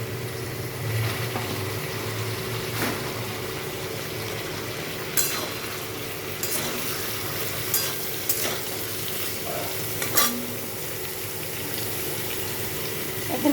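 Chopped onions hitting hot oil with partly fried potatoes in a wok, giving a steady close sizzle and crackle with occasional stirring clatter and scraping, continuous throughout with no talk.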